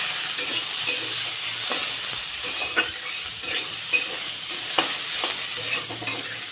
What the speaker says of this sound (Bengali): এবারে আমি আলুগুলো ভেজে নেব। কেটে ধুয়ে রাখা আলুটা দিয়ে দিলাম।